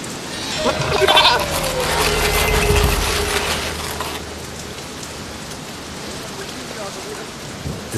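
Goats bleat a few times up close in steady rain, with a low rumble of thunder underneath and a rising, wavering animal call early on before the downpour carries on alone.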